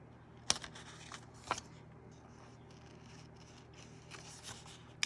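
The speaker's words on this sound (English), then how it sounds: "I think I'm just going to do it with scissors" A few quiet, crisp scissor snips spaced apart, trimming the corners of thin paper, with light rustling and handling noise between the cuts.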